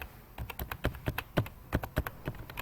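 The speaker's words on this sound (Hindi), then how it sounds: "एंटर दबाऊंगा।" Keys clatter in a quick, irregular run of crisp taps on a computer keyboard during CorelDraw work, ending with an Enter press. The taps are close and loud over a quiet background, and nobody speaks.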